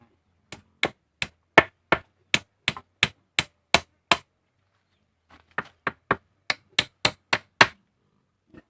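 Sharp, evenly spaced hammer blows drive nails into wood for a pig pen door, about a dozen in a steady rhythm, a short pause, then another quick series.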